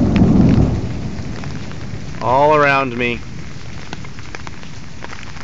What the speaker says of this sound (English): Now it is pouring rain in buckets and thundering and storming